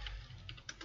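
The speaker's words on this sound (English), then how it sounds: "What's going on with me typing today?" Typing on a computer keyboard, heard as a short, faint patter of a few key clicks with no talking.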